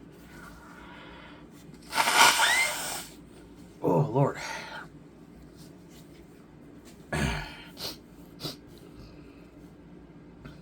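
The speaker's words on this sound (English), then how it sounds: "Blow my nose real quick." A person gives one loud, forceful nose blow, followed by a few shorter sniffs and snorts, with a brief remark spoken in between.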